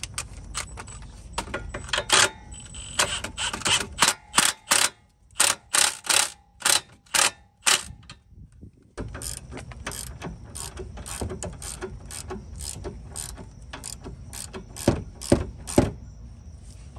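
A ratchet wrench tightens the 17 or 18 mm nut on a car's sway bar link, clicking in quick rhythmic bursts, then a steady run of close, crisp ratcheting clicks that continues alone.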